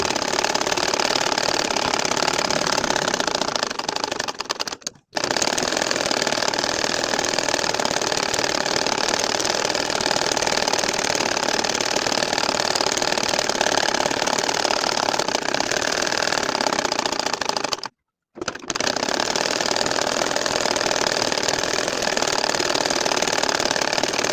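A domestic sewing machine stitches a line of nakshi kantha quilt embroidery with a continuous rapid mechanical chatter, close and steady for over twenty seconds, broken by two short pauses.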